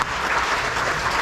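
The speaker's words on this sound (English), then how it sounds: "I think that's worth a round of applause for yourself for taking time to do that." Audience applause fills a town hall meeting held about pharmacy benefit managers, a steady dense wash of clapping from the crowd lasting throughout, fairly close and even in level.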